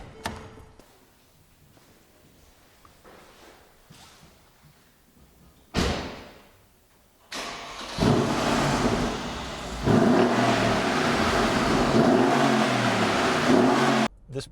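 A 2012 Mercedes-Benz CLS 63 AMG with a door thud, then the engine cranks and fires into a loud, steady, close idle that swells in two stages and holds a dense rumble.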